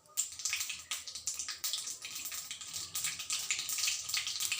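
Mustard seeds crackling and spluttering in hot oil for a chutney tempering, a busy, faint, continuous popping hiss with rapid bursts throughout and no speech.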